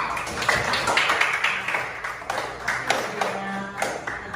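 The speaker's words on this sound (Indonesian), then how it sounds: "kasih tepuk tangan dulu untuk kelompok 2." Classmates clap for group 2 in a classroom: a fairly quiet, uneven patter of hands from a small group, with distinct claps standing out over a few seconds and faint voices beneath.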